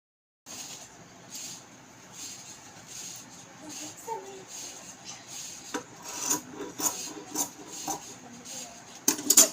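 Scissors cutting through fabric for a puff sleeve on a blouse, with soft rasping snips and rubbing of cloth in an irregular rhythm, close and fairly quiet, growing busier toward the end.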